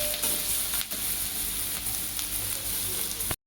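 Onion sautéing in a pan for baingan bharta, with a dense, loud, continuous sizzle and occasional stirring scrapes close by, no talking, ending abruptly.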